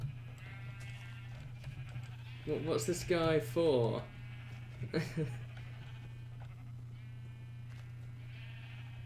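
Sheep in the game Minecraft bleat in a quick wavering burst near the middle, over a steady low hum, with brief talk around it.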